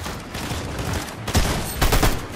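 Rapid gunfire bursts from a Fortnite match, loud and close, with a dense crackling volley that swells in two heavier clusters and no talk.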